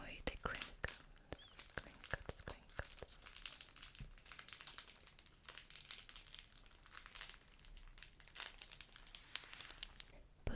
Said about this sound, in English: Just enjoy the crinkles.